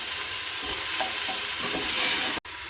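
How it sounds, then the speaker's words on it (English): Cream poured into a pan of cooking minced garlic for chicken fettuccine Alfredo, giving a steady loud hiss of sizzling with faint stirring scrapes, close and continuous, no talking. "I'm adding the cream now."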